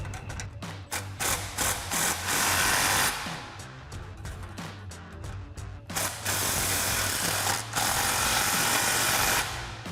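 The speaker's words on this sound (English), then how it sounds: "we're gonna grab our impact and 15mm socket," An impact wrench with a 15mm socket tightens exhaust clamps on a 2013-2014 Mustang GT, firing in loud rapid hammering bursts separated by short pauses, with ratcheting clicks between them.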